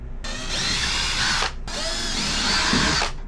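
A handheld power drill with a small bit bores a hole for drywall anchors in two steady whining bursts separated by a brief pause, loud and close.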